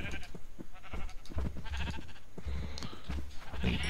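Sheep in the video game Agrarian Skies bleat repeatedly, several overlapping calls with short gaps between them, steady and fairly loud against quiet game background.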